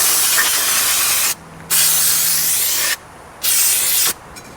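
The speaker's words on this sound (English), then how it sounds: "Okay, we got brake cleaner. We're gonna clean the brakes" Brake cleaner sprayed onto the brakes of a 1957 VW Roadster, heard as two loud, steady aerosol hisses of about a second and a half each, separated by a short pause, close and with no voices.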